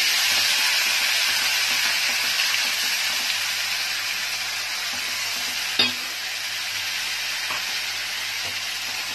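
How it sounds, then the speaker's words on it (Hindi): Grated ginger and green chilli fry in a pan with an even, continuous hiss and sizzle that stays loud and steady, broken by one brief clink of a utensil, with no voices. "ग्रेटेड जिंजर और हरी मिर्च डाल दूंगी। थोड़ा भूनने के बाद"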